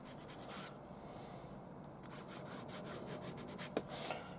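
A piece of wood rubs steadily along the wetted edge of leather on a small bushcraft knife sheath, a soft continuous scraping friction with a light tap near the end.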